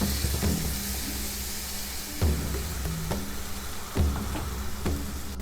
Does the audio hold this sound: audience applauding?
no